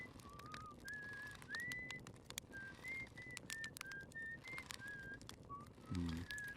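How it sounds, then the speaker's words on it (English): Short, wavering whistled notes from a character in Outer Wilds, a run of a dozen or so brief tones in a varied melody, set over a low background and clicky noises, fairly near and moderately loud. "Get a nice raspy whistle if you eat enough of those."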